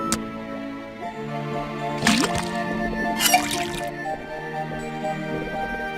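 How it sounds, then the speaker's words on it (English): In the Detective Grimoire game, liquid drips from a faucet into a cauldron, giving a couple of wet, squishy drip splashes over a steady humming musical background. "then tap the faucet."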